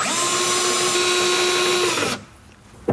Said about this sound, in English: Drill it into position.